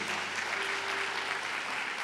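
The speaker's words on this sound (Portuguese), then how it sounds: "uma salva de palmas para vocês" A church congregation at a worship service claps in a brief, dense, even burst of applause, with no voices standing out.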